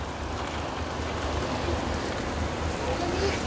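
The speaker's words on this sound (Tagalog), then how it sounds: "It's rain. It's raining." Heavy rain pours steadily outside a window in Sharjah, UAE, a dense, unbroken hiss that stays loud from start to finish, with faint voices in the background.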